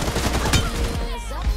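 Rapid gunfire bursts from the mobile battle royale game BGMI in a team deathmatch, loud, close and sharp, packed into a short dense volley.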